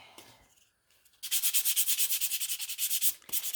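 Sandpaper rubs across a wooden kitchen spice sign in a quick run of rhythmic, close scratchy strokes after a brief quiet start.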